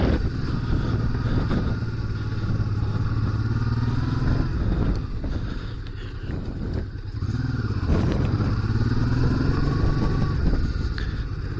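A Honda Transalp 650 motorcycle engine drones steadily nearby on soft off-road ground, its pitch rising and falling as it shifts and revs, with rattling and clatter over uneven ground.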